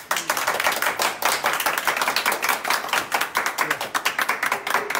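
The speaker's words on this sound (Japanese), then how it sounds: "皆さんに拍手" Live concert audience at a band's 27th anniversary show at Shinjuku ReNY, clapping in a fairly rhythmic, pulsing pattern. The claps are close and loud, with a few faint voices mixed in.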